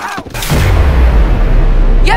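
Heavy gunfire erupts in a Simpsons cartoon scene, a loud sustained barrage of booming shots right after a shouted voice, filling the clip almost without pause.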